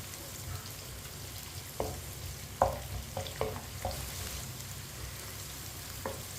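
Small chopped onions fry for moong dal with a soft, steady sizzle in a pan, punctuated by a few sharp spoon taps and scrapes as they are stirred.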